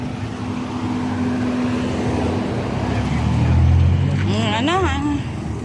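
Road traffic with vehicles passing each other in opposite directions, engine rumble swelling to a peak midway, a horn-like tonal sweep near the end, with someone talking over it.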